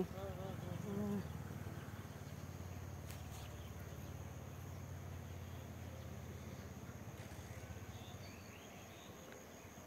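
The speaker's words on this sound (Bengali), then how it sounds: "এত মৌমাছি," Dense buzzing of many honeybees around hives beside a flowering mustard field, a steady close drone that continues for the whole stretch, with a voice talking over it at the start.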